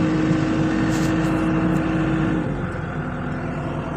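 Running engine held at a steady, loud drone as the accelerator is raised, easing slightly lower toward the end.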